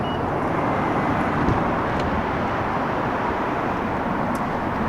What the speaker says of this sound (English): Apologize for all the traffic noise.